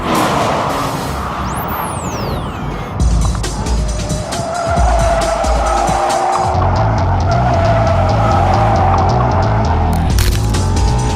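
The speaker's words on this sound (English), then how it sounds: "Entering the front straight at Streets of Willow in the brand new, all new Mazda MX-5 Miata." A 2016 Mazda MX-5 Miata Club laps the Streets of Willow race track, its engine droning loud and close throughout while tires squeal and skid through the corners.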